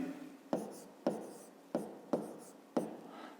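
Pen strokes on paper while a Ukrainian fifth-grade maths subtraction result is written out: five sharp, evenly spaced taps or scratches, close and fairly quiet, with no talking.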